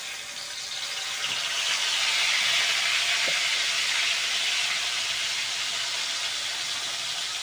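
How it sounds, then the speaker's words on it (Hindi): Ginger, garlic and onion paste frying in hot refined oil in a pan, a loud continuous hissing sizzle that swells after the first second and holds steady, with no voices. "एबे सेथरे कौन करिया बाटिना रखि था अदा रसुण प्याज पेस्ट पके दबा।"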